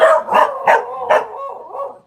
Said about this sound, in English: There's another dog barking over there.